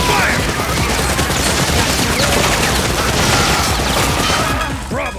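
Sustained machine gun fire in the Time Crisis arcade light gun game, dense rapid bursts mixed with explosions and crashes filling the whole stretch loudly, with faint game voices underneath.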